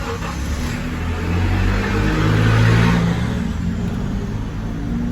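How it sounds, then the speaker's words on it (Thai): A Honda Civic ES car engine runs steadily, its mid-pitched revving swelling to a peak and easing off over a few seconds, close and continuous with no talking. "สอบสตาร์ทนะครับ"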